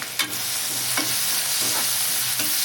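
Spice masala with turmeric and red chili frying in a pan for a bitter gourd peel curry. A steady close sizzle runs throughout, broken by regular scraping stirs about once a second.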